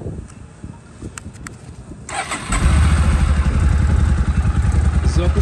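Suzuki Desperado 400 motorcycle with about 48,000 km turns over and fires after a few quiet clicks, then settles into a loud, steady, close idle with a throbbing beat.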